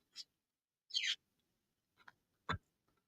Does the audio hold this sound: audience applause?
no